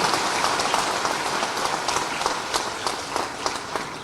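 A crowd at a Madhya Pradesh government event applauds loudly, dense sustained clapping with scattered sharper claps standing out, continuous for several seconds.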